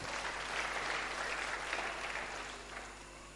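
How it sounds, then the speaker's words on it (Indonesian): A church congregation applauding, a dense, continuous wash of many hands clapping at a moderate distance, gradually easing off toward the end with no voices standing out. "Tepuk tangan yang paling meriah buat Tuhan."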